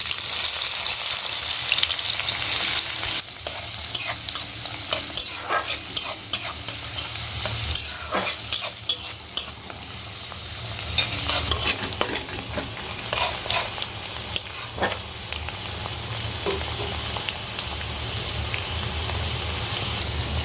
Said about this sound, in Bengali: এবার আমি পেঁয়াজ কুচিটা দিয়ে দেবো।